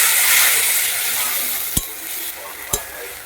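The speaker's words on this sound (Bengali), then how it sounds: "অল্প একটু জল দিয়ে দিচ্ছি মশলাটা কষানোর জন্য।" A paste of ground cumin, coriander and a little ginger sautéing in a pan with a splash of water for a magur fish curry, a loud hissing sizzle that gradually fades, punctuated by a few sharp spatula knocks.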